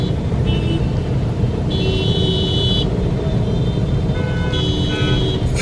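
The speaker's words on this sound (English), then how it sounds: "This guy's honking, but he's on the wrong side of the road." Car horns honking in chaotic Indian road traffic, several overlapping toots of different pitches sounding over a constant loud rumble of engines, close by.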